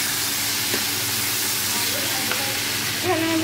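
Cauliflower frying in oil after fish was fried in it, a dense steady sizzle close to the pan with a light stirring scrape near the end, under faint background sounds and no clear talk.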